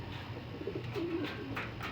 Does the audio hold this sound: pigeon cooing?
yes